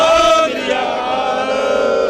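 A large crowd of protesters at the Delhi border farmers' protest roars a slogan in unison, loud and close, the massed voices holding strong and then easing into a sustained chant.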